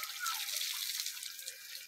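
Water is poured over a buffalo as it is bathed in a Punjab village, giving a steady, soft splashing hiss throughout with no one speaking.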